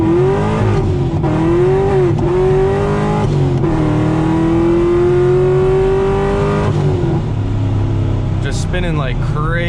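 A supercharged C6 Corvette revs hard and spins its tires, a loud continuous engine roar with rising and falling pitch through the gears. Tire squeal is mixed in, close by and sustained for the whole stretch. Faint cabin chatter sits underneath.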